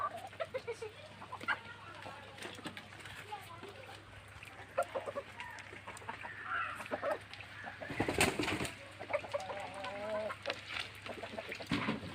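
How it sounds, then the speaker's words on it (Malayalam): Chickens clucking and murmuring nearby amid farmyard noise, with people talking and a brief louder burst partway through. "ഇതാണ് അവൻ്റെ കോഴികൾ"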